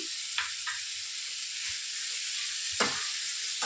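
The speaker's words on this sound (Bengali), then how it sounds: "আরও 1 মিনিট নাড়াচাড়া করে এর মধ্যে জল দিয়ে দেব।" Chopped tomatoes stirred and sautéed in a pan for jackfruit curry, giving a constant close sizzle with a few scraping strokes of a spoon against the pan.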